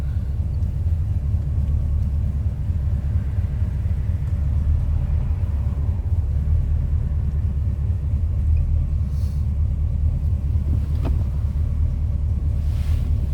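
An old truck engine idles after starting, a loud, steady low rumble that runs unbroken throughout, close to the cab with no talk.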